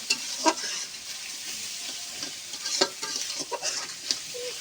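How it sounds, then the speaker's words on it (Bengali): Spices frying in a pan for a silver carp fish masala dopiaza, with cumin paste, cardamom paste and chili powder added, sizzling steadily while a spoon scrapes and stirs in short irregular strokes, close up with no voices. "এবার আমি জিরে বাটা আর এলাচ ফল বাটাটা দিয়ে দেবো, ঝালের গুঁড়োটা দিয়ে দেবো। দিয়ে ভালো করে নেড়ে চেড়ে নেব।"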